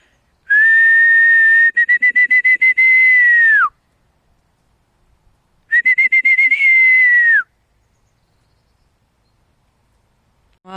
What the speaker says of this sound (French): donc je vais les siffler, on va voir si ça arrive.